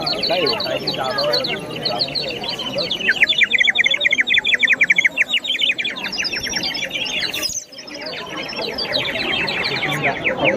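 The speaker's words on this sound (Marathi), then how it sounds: "चिमणीसारखा चिमणी ओरडतं सेम आवाज येतो" A water-filled toy whistle warbles in rapid, sparrow-like chirps, loud and close, running almost nonstop with a short break near the end.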